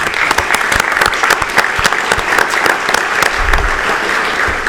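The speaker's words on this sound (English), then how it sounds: "So let's give him a round of applause, please." Round of applause from attendees at a City of Orlando workshop, close and loud with distinct individual claps in a brisk, somewhat uneven patter over a few seconds.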